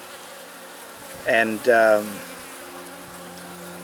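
Honey bees buzz on a frame from a struggling hive, a steady low hum that runs throughout while someone says a brief word midway.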